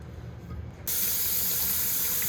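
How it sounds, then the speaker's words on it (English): A kitchen tap is turned on abruptly to wash potatoes, switching from quiet room tone to a loud, steady hiss of running water close by. "we're gonna wash our potatoes off"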